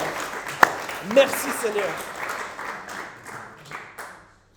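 A church congregation claps in scattered applause that fades out, with voices speaking over it.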